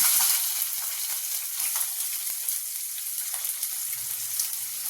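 Onions fry in a pan in a home kitchen, a soft steady sizzle with faint scattered crackles and light clinks, fairly quiet and without speech.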